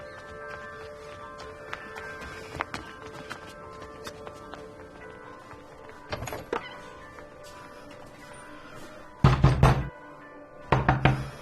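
Knuckles knock on a closed door in a Hindi film scene, a few scattered raps at first, then two louder, rapid bursts of pounding near the end, with no voices.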